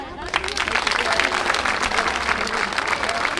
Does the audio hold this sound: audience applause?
yes